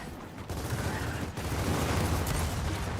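Gunfire from Gears of War 4 shotguns in an online match, with heavy blasts landing around half a second and again near 1.4 seconds over a dense, continuous bed of battle noise.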